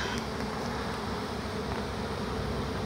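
Dense honeybee swarm buzzing steadily around a skep during a swarm capture, close and loud throughout with no voices.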